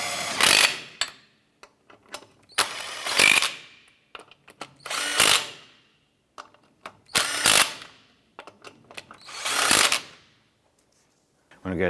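A power tool snugs down lug nuts on a 1994-2004 Chevy S10 front wheel in loud, close bursts of whirring and rattling, about five separate runs separated by quiet gaps and small clicks.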